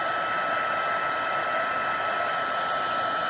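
A heat embossing tool blowing hot air over cardstock for a pigment-ink bubble wrap background gives a constant, close, whirring rush of air with a steady high whine, unbroken from start to finish.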